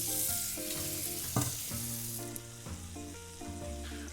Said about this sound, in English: shrimp cook pretty fast in the pan